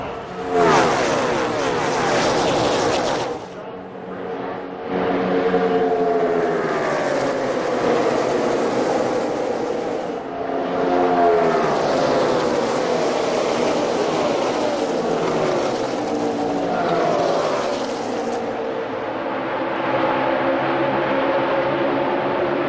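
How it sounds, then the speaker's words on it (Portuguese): NASCAR stock cars racing at Talladega in 2008, a loud continuous roar of many engines sweeping past in waves, broken by a brief dip near the start, with no talk heard. "Esse era o carro de Kyle Busch"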